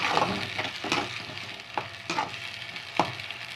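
Tomato paste is sautéed in a pan for a Tamil karamani kulambu, sizzling steadily at close range while a spatula stirs and scrapes in short, regular strokes.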